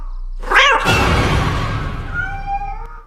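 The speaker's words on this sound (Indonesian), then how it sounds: "Dan ternyata itu hanya kucing hitam." A black cat in a horror film lets out one loud, drawn-out yowling meow that rises and then trails into a fading, eerie tone, close and alone.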